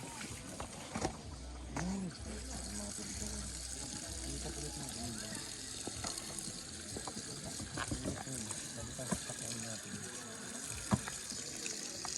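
Water poured and splashing at a campsite, a steady running trickle through the whole stretch with clinks of containers, while people talk in the background.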